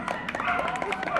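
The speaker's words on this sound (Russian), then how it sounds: "Бурные аплодисменты." Applause from an audience at an outdoor dog show in a park, a dense patter of hand claps lasting about a second, heard under overlapping crowd voices.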